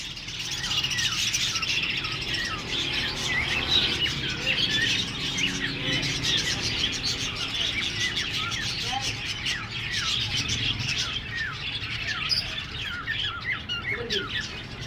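Pet parrots squawking and chirping in a steady stream of short calls, fairly close and lively, with faint voices in the background.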